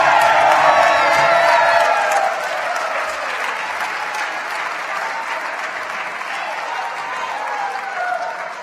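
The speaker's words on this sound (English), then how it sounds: "Start clapping again." Audience clapping and cheering at a State of the State address, a dense, loud burst of applause with a few whoops that eases slightly after two seconds and carries on steadily to the end.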